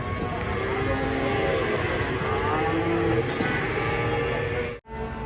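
Several large cattle moo in long, overlapping low calls close by as they come down off a truck, with a crowd-like murmur underneath and a brief cut near the end.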